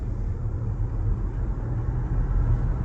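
Inside a Toyota bZ4X electric car at full throttle, a steady low rumble of motor and road noise holds evenly throughout, with no talking.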